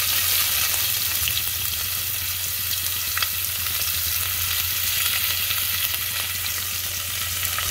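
Whole spices and onion frying in oil for a veggie pulao: a dense, continuous sizzle close by, even and unbroken for the whole stretch, with no talking.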